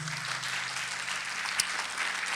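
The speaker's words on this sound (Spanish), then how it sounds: "Regálele palmas al Señor, hermano, una vez más." Church congregation clapping together during an evening service, a steady dense wash of applause filling the whole moment with one sharp louder clap near the middle.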